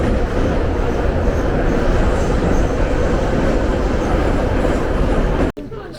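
Steady, loud rumble of a train running underground on the Tbilisi metro, built in 1965, a constant roar with rattling, ending abruptly in a sudden drop near the end.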